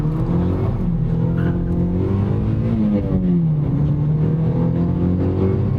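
A car's engine hums steadily as it drives along a road, pitch gently rising and falling with throttle and gear changes, a continuous close drone.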